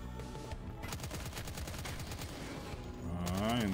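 Gunfire in the arena shooter Impaler comes as a dense, rapid stream of shots that runs throughout, loud and close, with a rising tonal effect near the end and no voices.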